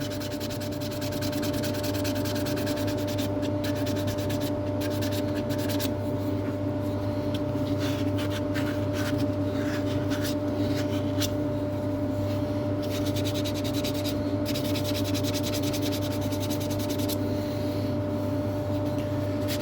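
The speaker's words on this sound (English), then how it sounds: "I'll just persevere with a bit of sanding on the outside here" Continuous scratchy rubbing of sandpaper on an apple wood spoon, close and steady, with a low constant hum underneath and no speech.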